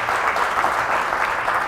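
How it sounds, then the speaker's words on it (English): Steady applause from an audience at a talk on a National Marine Conservation Area around a large inland sea, a dense, even patter of many hands holding at one level from start to finish with no voices. "I do want to ask for a round of applause"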